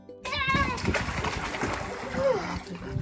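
A child swimming sends water splashing continuously at close range, with a voice rising over the churning water partway through.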